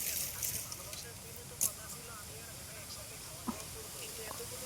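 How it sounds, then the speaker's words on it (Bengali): Wind blows steadily across an open field of cucumber and gourd plants as a soft, continuous breathy hiss with a couple of brief louder gusts or rustles. "অনেক হাওয়া করছে, আজকে ওয়েদারটা খুব সুন্দর।"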